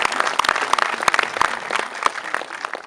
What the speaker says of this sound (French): Donc je pense qu'on peut t'applaudir